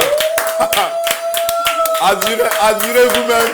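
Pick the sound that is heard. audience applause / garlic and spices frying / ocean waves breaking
audience applause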